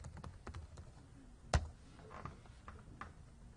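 Soft, irregular clicking of keys being typed on a computer keyboard, quiet and close, with one sharper louder tap partway through and no talking.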